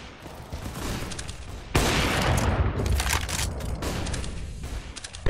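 Dense gunfire from a Counter-Strike: GO match: loud, rapid overlapping shots in continuous bursts that swell sharply partway through and hold steady to the end.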